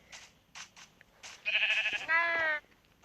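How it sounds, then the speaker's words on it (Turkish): Sheep bleat in a block-building survival video game, two loud, close bleats in a row following a few softer game sounds, with no voice over them. "Birazcık koyun öldürmem gerek."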